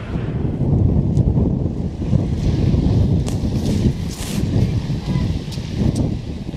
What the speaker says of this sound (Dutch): Het waait wel heel hard, knoeperhard